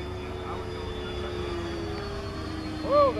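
A 90mm electric ducted fan model jet, an Airworld F9F Cougar, whines steadily overhead at a moderate distance as it flies, with a voice briefly audible near the end.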